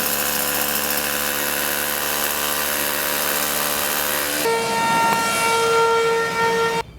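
A power drill whirs at a steady high pitch, then shifts to a lower grinding tone as it bites into material drilling a 6.5mm hole, stopping abruptly.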